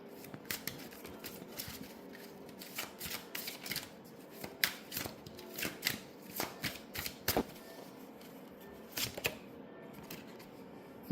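Tarot cards are shuffled by hand in close, crisp bursts of riffling and snapping, with irregular pauses between quick flurries, quiet and without talking.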